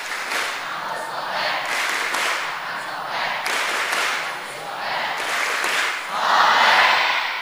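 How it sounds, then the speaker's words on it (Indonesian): A group of students at an Islamic boarding school claps in a patterned rhythm for the 'generasi 554' chant, bursts of clapping in steady sections with voices mixed in, growing louder near the end. "Coba bagaimana tepuk generasi 554?"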